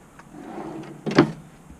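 A single short wooden drawer slide in a Roadtrek 190 camper van kitchen, a quick scrape and knock, close by in a quiet room.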